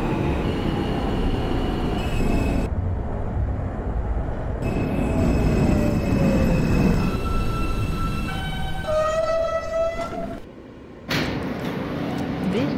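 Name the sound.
subway train running, from a video game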